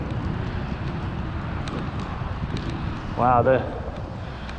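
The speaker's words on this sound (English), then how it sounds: "the wind is incredible. It's like all channeling through here." Strong wind gusting along a desolate Roman road in Southampton, a constant rushing roar buffeting the microphone, with a man's brief exclamation near the end.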